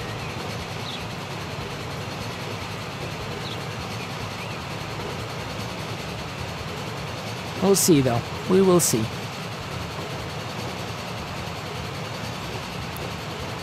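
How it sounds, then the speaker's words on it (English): A train in the game Transport Fever runs along its rails with a steady, low rolling rumble, while someone talks over it and two short bursts of higher-pitched sound briefly break in. "We seem to be catching up to that train"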